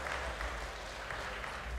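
Crowd applause rolls through the audience at the Savon Vahvin Viikinki 2025 strongman competition, a dense, steady wash of clapping with a low rumble underneath, held at an even level throughout the short burst.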